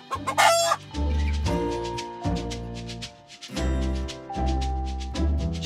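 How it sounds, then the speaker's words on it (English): Hens cluck and a rooster crows loudly over a bed of tonal music in a farm-animal song for children, the calls bursting in repeatedly across the passage. "Chicken."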